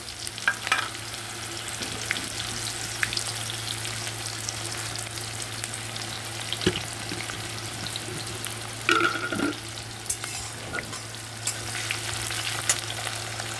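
Onions frying in hot spiced oil and being stirred, a steady close sizzle with occasional scraping stir strokes, continuous and alone without talk.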